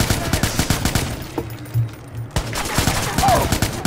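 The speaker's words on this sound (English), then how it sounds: "Oh, that was a perfect explosion." Gunfire and explosions in the Watch Dogs video game, rapid bursts of shots followed by a loud blast, a short lull, then more shooting, all close and loud.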